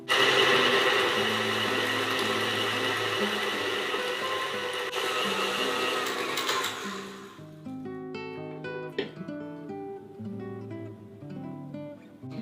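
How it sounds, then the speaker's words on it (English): Stand mixer creaming soft butter for a sourdough discard blueberry buckle, a steady loud motor whir that runs for several seconds, then drops away to quieter mechanical clatter. "So continue to cream your butter until it's light and fluffy."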